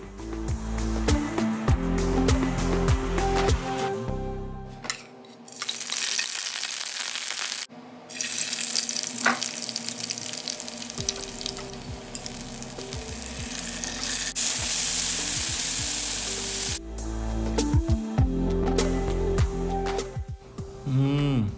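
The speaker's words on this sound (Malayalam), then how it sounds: "ഇനി നമുക്ക് ചെമ്മീൻ ഫ്രൈ ചെയ്തെടുക്കാം." Prawns fry in a pan with a loud, steady sizzle and hiss that holds throughout, with a few brief shifts in intensity as the pan is worked.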